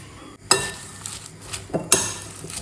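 A utensil stirs food in a pan just after oil and salt go in, giving a few sharp scraping and clinking strokes with a soft sizzle in between.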